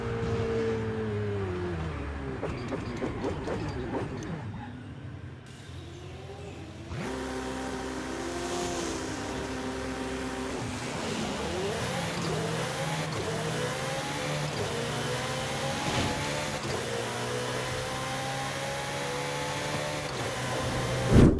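Car driven in the Forza Horizon 5 racing game, set in Mexico: an engine note rising and falling through repeated gear shifts and revs, steady and prominent, with a brief drop in intensity midway before it accelerates again.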